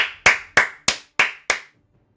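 One person claps six times at a steady, even pace, each sharp clap ringing briefly in a quiet room, then silence.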